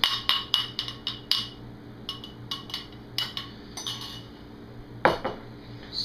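Cornbread batter being stirred in a bowl as wet and dry ingredients are combined, a series of sharp utensil clinks and taps against the bowl in an irregular rhythm, close and fairly clear with no talking.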